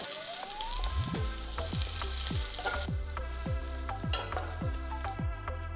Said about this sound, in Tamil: அகல பேனில் மூணு டீஸ்பூன் எண்ணெயை ஊற்றி ஒரு பெரிய வெங்காயம் நீல வாக்கில் நறுக்கி போட்டு கிண்டுங்க